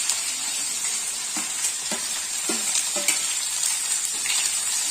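Long-sliced onions fry in hot oil for a chicken masala curry, giving a constant loud sizzle with a few soft clinks and stirring sounds, close up and without talk.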